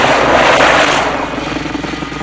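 Loud, close engine of a helicopter in poor condition, with rapid rotor chopping, easing slightly in intensity after the first second, in a 1989 film.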